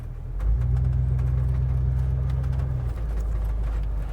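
A car with a new small-block Chevy 350 V8 runs steadily at low speed while moving, its engine a close, even hum with a rising note near the start and faint clicks over it.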